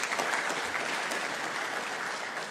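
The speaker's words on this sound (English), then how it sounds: "Let's acknowledge her with a round of applause." Health summit audience clapping in a continuous, fairly loud burst of applause filling the room for a couple of seconds.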